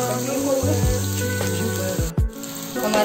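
Onions softening in a pan give a close, steady sizzle, with a few utensil clinks and a brief scrape partway through.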